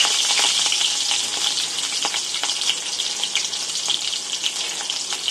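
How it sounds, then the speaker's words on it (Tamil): Dried chilies, mustard seeds and fenugreek fry in hot oil in a pan, giving a steady, close crackling sizzle with scattered pops throughout, with no voices. "அதுக்கு ஒரு பாத்திரத்தில் எண்ணெய் ஊற்றி எண்ணெய் சூடானது கடுகு வெந்தயம் போட்டிருக்கோம்."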